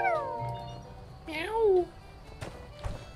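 Cat meowing in the video game My Time at Sandrock, two short, clear mews close up, with faint footsteps and quiet background ambience.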